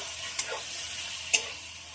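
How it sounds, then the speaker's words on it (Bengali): Potatoes with poppy seed and green chilli paste stirred in a frying pan, a steady low sizzle broken by two brief scraping clinks of the spoon. "পোস্ত আর কাঁচা লঙ্কা বাটাটা দিয়ে দেবো, দিয়ে খুব ভালো করে নেড়ে দেবো।"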